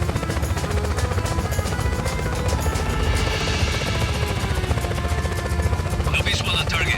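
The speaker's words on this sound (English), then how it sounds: "you'll have to grab a helicopter" Helicopter in the open-world action game Just Cause 4, a steady loud rotor and engine drone filling the whole stretch, with some clanking and game effects rising near the end.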